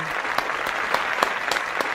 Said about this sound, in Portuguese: Palmas pro menino.